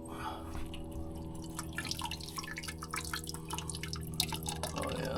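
Water dripping and squirting from a leaking V12 engine, a steady hissing, spattering stream with scattered drips close by over a constant engine hum, with faint voices.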